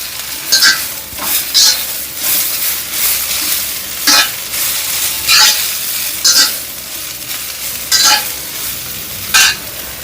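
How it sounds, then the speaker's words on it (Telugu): Mint leaves lightly frying in oil in a pan, with a loud sizzle broken by repeated bursts of stirring and scraping roughly every second or two, close and without any talk. "పుదీనాను వేసుకోవాలి లైట్గా వేయించుకోవాలి"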